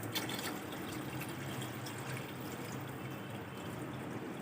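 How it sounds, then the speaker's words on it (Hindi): Water is poured into a pot of chicken pulao, giving a steady, close splashing and filling sound that runs evenly throughout, with no one talking. "पानी ऐड कर दिया"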